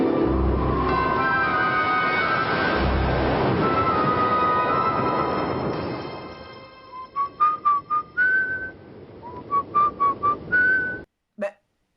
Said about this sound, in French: Et puis là, ils sont là en train de siffloter.